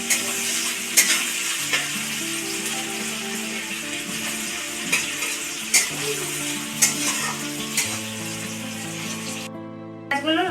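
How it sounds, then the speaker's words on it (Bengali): Chopped onion frying in a wok of oil with black cumin seeds, a steady loud sizzle with stirring scrapes and occasional sharp clinks of the utensil against the pan, no voices. "এবার দিচ্ছি পেঁয়াজ কুচি।"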